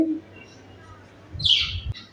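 Pet birds kept at home give a short burst of high chirping calls, fairly near, after a quiet stretch with faint low background hum.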